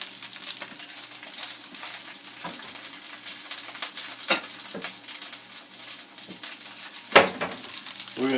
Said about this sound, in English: 3 large eggs. And we're going to beat the eggs